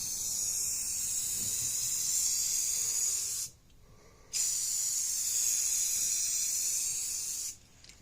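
A rattle can of spray paint hisses steadily onto a Jeep Cherokee hatch: one long, close spray burst, a short pause, then a second long burst that stops near the end.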